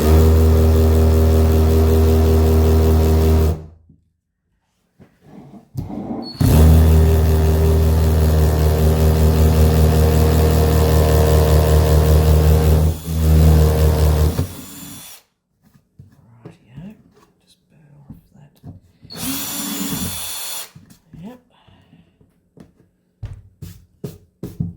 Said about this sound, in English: I'm going to use a 7mm drill bit